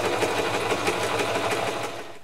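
A sewing machine stitches paper patchwork pieces in a fast, even, buzzing run of needle strokes, close and fairly quiet, trailing off at the end with no voices.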